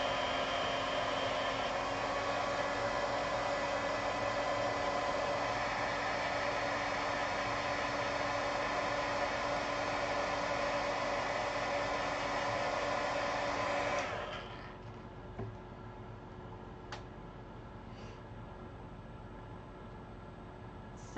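Steady close whoosh of a hair dryer blowing on a craft floral embellishment, constant and loud for about fourteen seconds before switching off, leaving faint room noise and a few small knocks.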